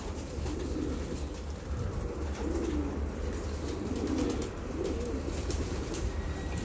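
Soft, low cooing from several birds, repeating in gentle bursts over a steady background hum, with faint flutters and outdoor ambience.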